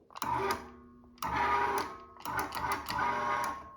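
A Cabela's commercial meat grinder runs in three short bursts as its foot pedal is pressed and released, producing a mechanical whirring hum with clicks at each start and stop.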